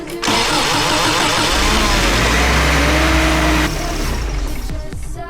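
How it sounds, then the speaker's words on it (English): A 30-year-old Subaru Loyale engine runs loud and steady with a bleeding funnel hooked to its cooling system, holding an even roar that shifts slightly in tone near the end. "now I'm gonna hook up my bleeding little funnel thing and run the car for a little bit and see if it flushes anything"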